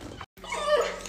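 A husky dog gives a short, close whimper and whine, a brief high-pitched cry broken by a moment of silence before it resumes.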